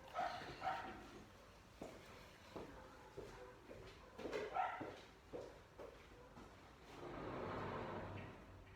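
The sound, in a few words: dog barking outside on the street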